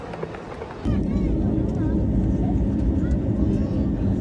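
An airplane at an airport before a flight to Baghdad gives a steady, loud engine roar that fills the scene from about one second on, with broadband rumble and faint voices mixed in.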